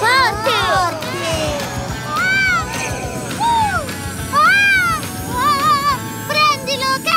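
A tiny cartoon kitten mews repeatedly in short, high, bright calls over a busy animated background of music and effects, with the meows coming in clusters across the scene.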